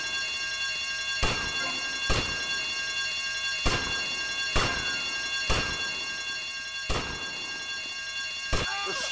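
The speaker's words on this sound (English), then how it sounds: "I told you not to touch that alarm!" An alarm rings in the video game GTA Vice City, sounding as sharp repeated bell bursts roughly every second or so against a steady background hum, loud and close.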